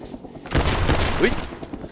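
A short flurry of gunfire rattles through a Rising Storm 2 battlefield, with several closely spaced shots and booms over background noise, while a voice speaks faintly underneath.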